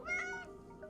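A single short, high meow from a cat named Percy in the video game Ara Fell, quiet and clear with no other sound around it.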